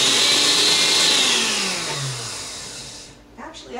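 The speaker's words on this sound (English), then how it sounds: "This motor is spinning very fast, and then all of a sudden you turn it the other way" A Vitamix blender motor whirs at high speed with a bright, loud whine that falls in pitch as it slows, then drops away and ends in softer clattering at the close.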